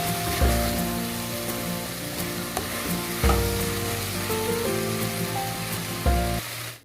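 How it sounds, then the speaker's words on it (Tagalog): A beef and mushroom stir fry sizzles loudly and steadily in a pan, with a few heavier stirring thumps breaking through the continuous hiss. "luto na yung beef stir fry with mushroom na luto ni CJ"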